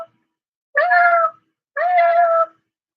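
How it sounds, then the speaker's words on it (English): A cat meows twice, each cry close, clear and about half a second long, with a short pause between and no other sound. "Actually, I call her Meow Meow."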